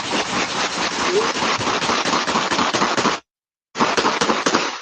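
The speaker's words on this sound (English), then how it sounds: "Surveillance cameras capturing the sound of gunfire" Rapid bursts of gunfire, captured by a street surveillance camera, crackle in dense volleys, briefly cut off, then resume just as fast and loud.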